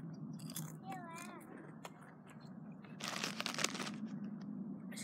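Crisps being eaten, with a burst of dense crunching bites after a short pause, close but fairly quiet, following a brief whistle-like squeak and soft background noise outdoors in the woods.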